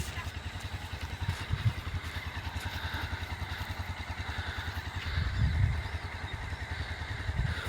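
Vehicles, including motorcycles, travel along an Indian road near the Meghalaya border, giving a steady engine drone that swells twice as something passes close by, with faint voices in the background.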